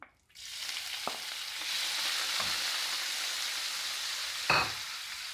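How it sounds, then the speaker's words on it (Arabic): Onions dropped into a pan of hot oil and butter on a gas stove, bursting into a steady, close sizzle that holds evenly with a faint clink of utensils, no one speaking. "دلوقتي حطينا آه، حوالي معلقتين زيت ومكعبين زبدة، وهنروح حاطين البصل."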